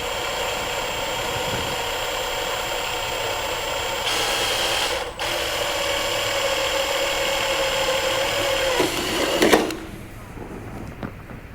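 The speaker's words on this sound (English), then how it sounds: "Drilling slowly with a light amount of pressure, we're going to drill each of these holes." Electric drill boring holes in sheet metal for a toolbox, a steady loud whining motor drone running continuously before stopping abruptly near the end, with talking under it.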